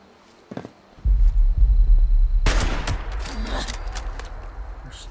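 Loud gunfire from the Fallout 76 video game: a few sharp shots are followed by a dense burst of rapid automatic fire that keeps going under a faint bit of chatter.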